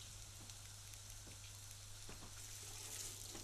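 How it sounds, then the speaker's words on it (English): Vegetables for a beef goulash frying in oil while being stirred, a faint steady sizzle with a few soft scrapes of stirring over a low background hum, no talking. "give it all a good stir."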